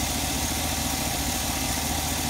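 A 2001 Chevy Silverado's 5.3 engine with an exhaust manifold leak idles close and steady, a dense continuous rumble with a fine ticking texture and no pauses.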